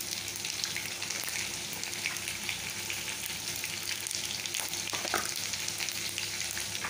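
Dried red chillies and panch phoron tempering in hot oil in a kadai, a steady close sizzle and crackle running throughout with no talking.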